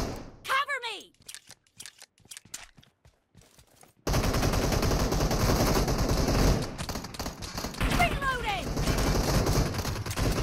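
Rapid automatic gunfire from a PUBG Mobile weapon, several loud staccato bursts, with someone talking over the shooting and game sounds throughout.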